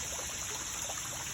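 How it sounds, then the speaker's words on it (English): A koi and goldfish pond waterfall trickles in a steady, dense splashing wash, close but soft and quiet, unchanging across the short span with no voices. "There's this fountain in the middle, and then the waterfalls."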